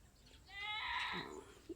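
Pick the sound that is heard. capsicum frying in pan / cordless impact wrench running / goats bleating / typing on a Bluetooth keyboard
goats bleating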